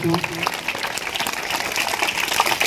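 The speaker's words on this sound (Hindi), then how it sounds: "जोरदार तालियां प्यारे बच्चों।" Children applaud at a school award ceremony, giving a short, dense burst of clapping that holds steady across the moment, with a brief voice at the very start.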